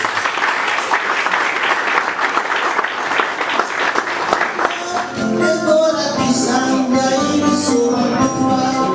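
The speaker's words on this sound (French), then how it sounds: "Vous méritez nos applaudissements." Audience applause at an anniversary ceremony for a charity organisation, a dense, loud round of clapping that fills the first half and then gives way to rhythmic music as the clapping fades beneath it.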